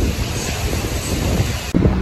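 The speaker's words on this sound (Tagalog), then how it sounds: "Ang hangin, no?" Gusty wind buffets the microphone outdoors in Yerevan, a loud continuous rushing roar that briefly drops out near the end.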